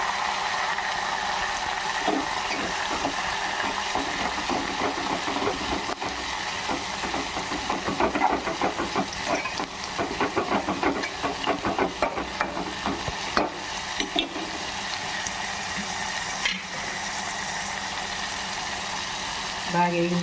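Tempering with curry leaves and coriander sizzles in a pan for Andhra gongura dal, a steady close frying hiss broken by stirring scrapes, with talk over it.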